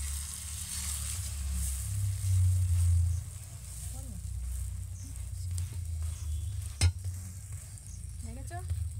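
Egg frying in a pan, turned with a spatula, giving a steady low sizzle with faint scraping and one sharp clatter partway through.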